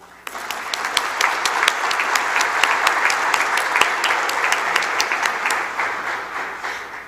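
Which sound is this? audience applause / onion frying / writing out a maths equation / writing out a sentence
audience applause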